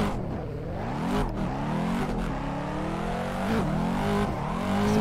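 Race car engine in Assetto Corsa, driven in a C46, revving hard through a clutch kick: a steady loud harmonic drone whose pitch swoops and jumps several times, with brief tire noise over five seconds.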